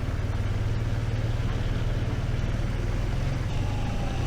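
2024 BMW R12 Option 719 motorcycle ridden through the city, its boxer engine giving a steady low throbbing pulse under constant wind and road noise, close to the rider.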